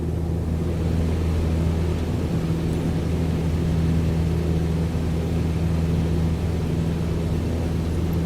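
An aircraft engine runs at full power in a flight simulator during a climb, giving a steady, loud, unbroken drone with a low hum that holds level throughout.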